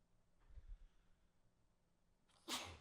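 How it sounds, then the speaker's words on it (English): A single sneeze bursts out near the end after a few quiet seconds with faint low shuffling. "Sneeze."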